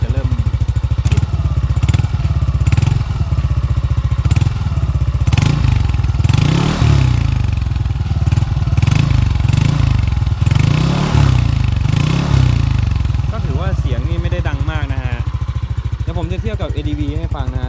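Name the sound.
Yamaha N-Max 155 with aftermarket exhaust, engine revving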